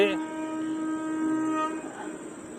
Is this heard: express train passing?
yes